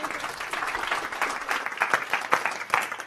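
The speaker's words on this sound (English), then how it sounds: "Give her a round of applause." Applause from a live seminar audience during a Cashflow 101 game event, a steady patter of many hands clapping at moderate level, continuous for the whole stretch with a few sharper claps near the end.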